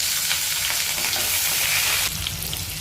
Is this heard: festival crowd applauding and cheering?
no